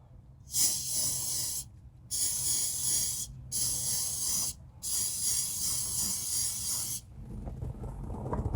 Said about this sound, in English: I've got my Lysol disinfectant spray. I'm just going to spray inside our vent right here.